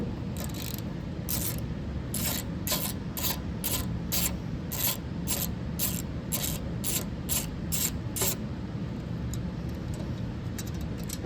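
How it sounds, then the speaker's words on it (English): Screws being undone from the governor linkage on a Briggs & Stratton 130G32 engine give regular ratcheting clicks, roughly a dozen evenly spaced bursts, close and moderately loud over a steady low hum. "take our other screw off."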